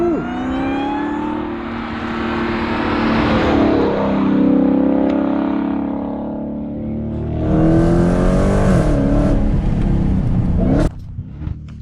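A Dodge Challenger Hellcat accelerates hard on a race track. Its loud engine climbs in pitch, eases off around the middle, then surges again in a strong second pull before cutting off near the end.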